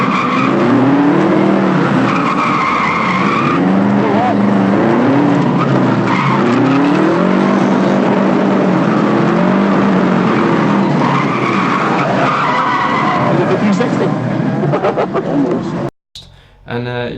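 A Subaru drift car skids hard with sustained tyre squeal and a loud, revving engine throughout, close by and continuous, with voices faintly underneath before a brief cut near the end.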